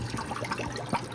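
Oxtail being rinsed in water for borscht, with a soft, close trickle and slosh of liquid across a brief moment and one slightly louder splash near the end.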